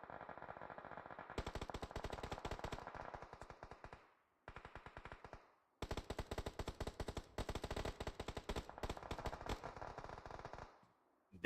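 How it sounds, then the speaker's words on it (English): Automatic gunfire from a video game esports match, crisp and close, comes in several long rapid bursts separated by short silences, with a few single shots near the end. "Looks like it's gonna be Phoenix that's doing the shooting"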